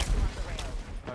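Gunfire rings out in a video game match played as Ash, a quick burst of close, sharp shots over about a second.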